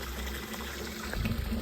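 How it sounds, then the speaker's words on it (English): Water pours over the overflow lip of a hot tub in a steady, gushing stream, with a low pump rumble beneath it. "now it's pouring over just fine."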